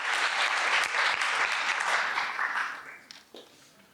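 An audience at a formal assembly applauds in a dense, loud round of clapping that fades out over a few seconds.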